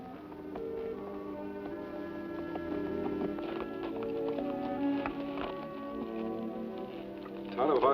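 Galloping horse hooves in a Lone Ranger western TV episode, a steady patter of hoofbeats running under orchestral music across the whole stretch.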